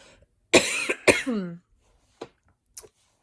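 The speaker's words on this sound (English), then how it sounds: "I need to cough, so excuse me." Two harsh coughs close up, followed by a brief strained throat sound and a couple of faint clicks in silence.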